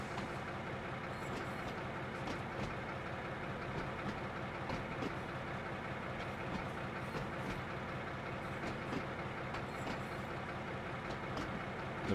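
A BR 204 diesel locomotive shunting in a harbour station yard in Train Sim World 3, giving a dense, steady engine rumble with faint wheel and rail clatter, continuous and close throughout, with no talk.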